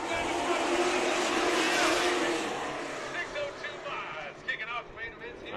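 602 Modified race cars roar out of turn 4 at a weekly speedway race, a loud engine drone swelling and then fading as the field passes, with an announcer talking over it.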